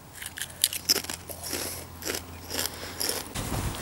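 Tangy cheese Doritos chips being bitten and chewed, giving several crisp, close crunches in an irregular rhythm, heard alone with no talking.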